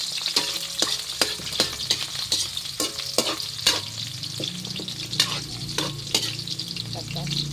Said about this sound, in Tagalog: gigisa ko muna siya